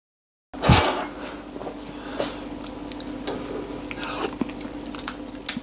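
A spoon stirs thick slow cooker chilli, giving soft wet squelches and light scrapes against the pot, steady and close after an initial clunk.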